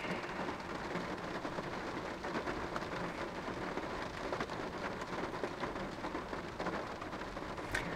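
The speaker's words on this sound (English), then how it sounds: "It's raining out there." Steady rain falls outside, a dense, even patter of drops on surfaces heard alone at moderate distance for the whole stretch.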